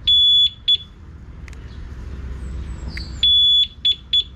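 A two-way motorcycle alarm on a Raider carb motorcycle gives loud piercing electronic beeps: a long tone and two short chirps, a gap, then the same long tone and chirp pattern again.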